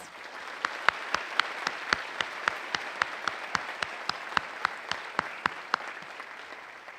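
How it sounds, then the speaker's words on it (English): Audience applause at a university convocation, a soft wash of clapping with distinct, evenly spaced sharp claps standing out close by in a steady rhythm. "Let's give them all a round of applause."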